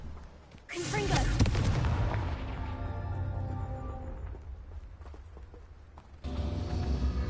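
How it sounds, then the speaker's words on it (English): Repeated Confringo fire spells explode in the video game Hogwarts Legacy, with a sharp blast followed by booming, decaying rumbles and another burst near the end, amid game sounds. "Right, so there's Confringo. Confringo. Confringo."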